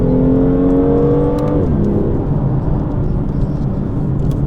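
A BMW M2 engine holds a loud, steady drone, then its pitch drops smoothly as the car downshifts with automatic rev matching and settles into a lower hum, heard close inside the cabin with no talking.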